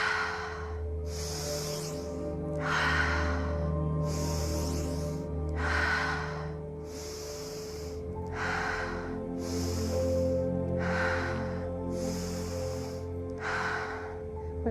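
Slow, deep breaths in during a guided full moon breathing session: a series of roughly nine audible inhalations, each lasting about a second, spaced evenly over a low steady background drone, close and fairly loud, with no talking.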